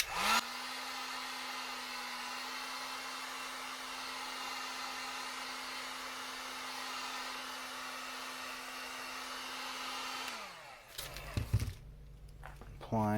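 A heat gun warms plastic to shape a Wolverine cosplay mask, a steady whirring blower drone with a constant hum for about ten seconds before switching off, followed by handling clatter and a brief rustle.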